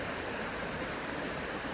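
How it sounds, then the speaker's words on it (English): Fast-flowing river water in winter high water, a steady broadband rush running near and continuous with no talk. "Water's moving at quite a pace now"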